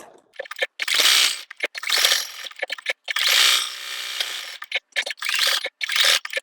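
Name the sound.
sewing machine stitching a quilt block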